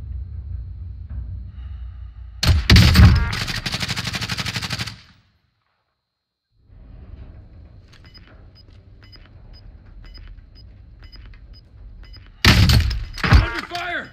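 Loud bursts of automatic gunfire in Call of Duty Warzone, first a sustained volley lasting about two seconds and then another close burst near the end, with a low engine-like rumble and faint ticking in between.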